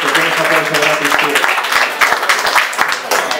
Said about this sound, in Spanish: que le deis un aplauso a él también, por favor, que se lo merece más.